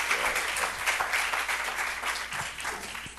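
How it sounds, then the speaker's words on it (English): Conference audience applauding after a debate session, a steady wash of many hands clapping at full strength throughout. "a hand of applause"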